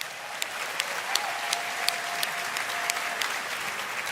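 Steady applause from a large audience at the Roblox Inspire 2024 event, a dense continuous patter with a few sharper claps standing out, filling the whole stretch without a break.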